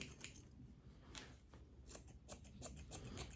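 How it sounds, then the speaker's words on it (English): Grooming shears trim the fur on a Goldendoodle's face, a series of quick, quiet metallic snips in an irregular rhythm, close up and soft against a hushed background with no talking. "we're gonna take these shears again, and we're just gonna kind of start to cut away"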